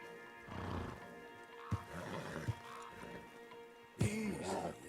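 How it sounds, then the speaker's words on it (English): A horse whinnies in the video game Red Dead Redemption 2, amid rumbling movement and shuffling, with a couple of sharp thumps and a louder burst near the end. "Marston, you're gonna tether him up to Javier's horse."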